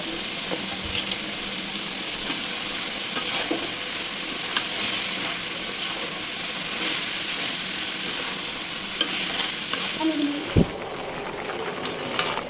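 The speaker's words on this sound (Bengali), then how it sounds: "এখন আমি সবজিগুলোকে দিয়ে দিচ্ছি।" Vegetables are tipped into a pan of frying dried-fish masala and stirred, producing a steady close sizzle broken by occasional utensil knocks and clinks against the pan, with no talking.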